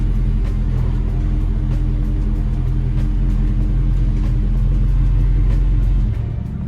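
A Dodge Scat car engine idles with a deep, steady, loud rumble up close, holding an even throb for several seconds before easing off slightly at the end.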